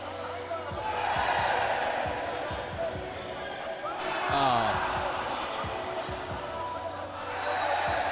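Basketballs bounce on a gym floor during varsity layup lines before a scrimmage, irregular thuds overlapping under a steady crowd murmur and a voice talking throughout.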